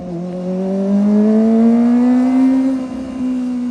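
A Kawasaki ZX25R motorcycle engine revving up: a loud, close, high-pitched wail that climbs steadily and holds near the top, then eases slightly, with no talk.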